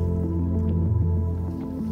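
Canoe paddled across a sheltered loch in the Scottish Highlands, with soft wet squishing and dripping paddle strokes close by over a steady low tonal hum.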